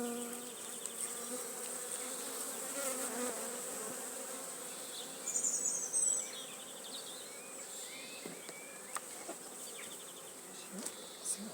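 A swarm of honeybees at a WBC hive hums in a steady, dense buzz close by, with individual bees flying past the microphone louder for a moment now and then.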